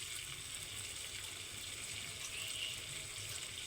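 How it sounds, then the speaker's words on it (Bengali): Water runs and splashes as a masala bowl is rinsed and poured into a wok for chicken biryani, a soft continuous gush heard faintly and alone. "সেটা ধুয়ে অল্প একটু জল দিয়ে দেবো কড়াইতে"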